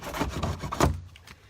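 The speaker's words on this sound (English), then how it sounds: "take our hacksaw, and we just cut it right off" A hacksaw cuts through a plastic drain pipe for a French drain footer tile line, giving several quick rasping strokes close by, with the sawing easing off near the end.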